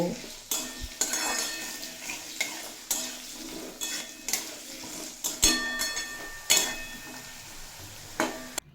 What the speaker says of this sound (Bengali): আলু দিয়ে লো টু মিডিয়াম ফ্লেমে দুই তিন মিনিট মতো ভেজে নেব